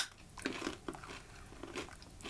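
Crunching on coated peanuts: several crisp, irregular bites and chews come close to the mic, with sharp cracks between softer grinding, and no voices in between.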